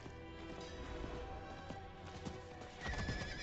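A horse in Diablo 4 whinnies with a rising, drawn-out call near the end, over a steady game soundscape and the clatter of hooves.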